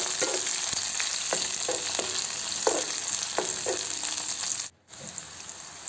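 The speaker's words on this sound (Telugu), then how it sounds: "ఈ ఆనియన్స్ అంతా లైట్ బ్రౌనిష్ కలర్ వచ్చేంత వరకు వేసుకుందాము." Onions sizzle steadily in hot oil in a pan, a constant frying hiss with several sharp clinks of a spoon stirring, before a brief cut-out near the end.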